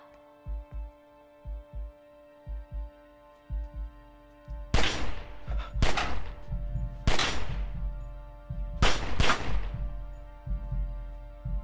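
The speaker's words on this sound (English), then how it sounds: "He's shooting the lockers." Gunfire aimed at school lockers indoors: after a run of soft thumps, four loud, sharp shots ring out in uneven spacing, each with a short metallic crash and echo.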